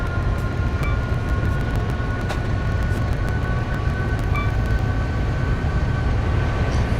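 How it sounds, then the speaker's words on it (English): Empty container train rolling along in Train Simulator on the South Wales Coastal route, a loud continuous rumble of wheels on track with a steady tonal hum and occasional clacks, no talk. "It's an empty container train."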